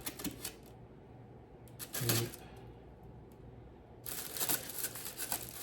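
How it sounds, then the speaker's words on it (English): A knife slices packing tape on the box of a Fountain Guard of the White Tree limited edition statue, making quick close scratchy rips and crinkles in two bursts, one short and one longer, with light rustling between them. "It's tape, so where is that knife? Cut the tape."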